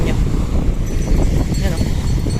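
Strong wind at a beach roars and buffets the microphone in a constant, heavy rumble with no pauses.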